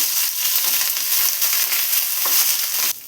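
Mustard seeds, broken dried red chillies and curry leaves frying in coconut oil for a Kerala koottucurry tempering, a loud continuous crackling sizzle with sharp pops, heard alone without talk.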